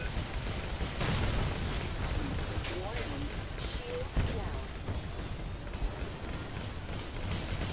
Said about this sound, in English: Taking heavy fire, though.